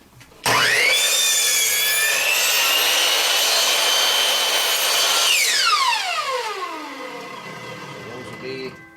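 A power miter saw spins up and cuts steadily through wood for a rustic shelf, a loud sustained whine lasting several seconds before the blade winds down with a falling pitch.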